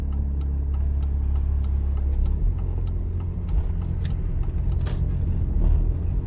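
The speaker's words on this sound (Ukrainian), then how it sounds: "Вмикаємо правий покажчик повороту і тут ми виконуємо поворот." Car interior during a driving exam as the car turns right: steady low road and engine rumble with faint clicks, a shift in engine tone partway through, and no talking.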